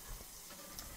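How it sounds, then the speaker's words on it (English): Tomato and onion sizzle in a hot pan, a steady close crackling hiss with faint clicks of a spatula, no talking. "you can hear the tomato, the onion sizzling"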